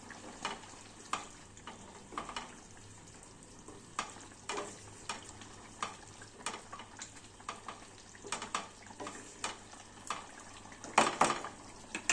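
Chicken with capsicum simmering covered in a pot, a soft steady bubbling broken by light scattered clinks and taps of a spoon or lid, with a brief louder clatter near the end and no one talking.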